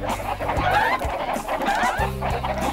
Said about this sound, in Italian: Dobbiamo lanciare i polli qua dentro.